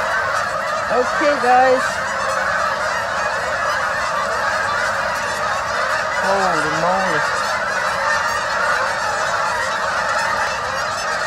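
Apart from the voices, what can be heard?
geese honking loudly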